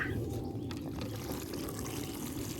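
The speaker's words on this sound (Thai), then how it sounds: "ใส่จุลินทรีย์สังเคราะห์แสงลงไปค่ะ เราจะกะพอประมาณค่ะ" Photosynthetic bacteria liquid poured onto the soil around a newly planted guava tree, a steady, close splashing trickle of liquid that runs continuously with no talking.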